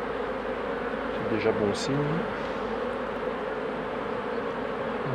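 Honeybees hum around open beehives on an apiary, a steady low buzz beneath someone speaking French, with a passing vehicle faintly in the background.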